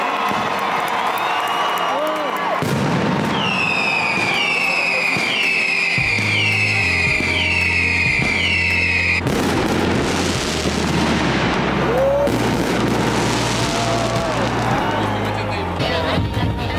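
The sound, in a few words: fireworks display at Valencia's Fallas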